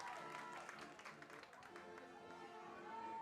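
A crowd at a high school football game murmurs and claps during a timeout, heard as a steady, distant wash of chatter and scattered applause at low volume.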